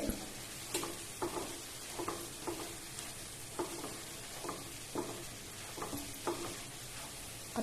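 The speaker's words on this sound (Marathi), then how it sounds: "कापलेली भाजी आता आपण यामध्ये मिक्स करून घेऊया" Chopped wild greens stirred in a hot pan with kokum, giving a steady soft sizzle broken by regular scraping strokes of the spoon, close and fairly quiet with no talking.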